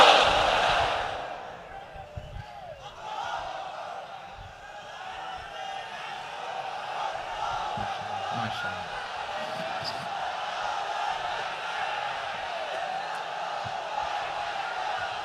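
A large rally crowd at an outdoor parade ground answers a call for takbir, a loud burst of massed voices at the start that fades into a lower, continuing murmur of many people.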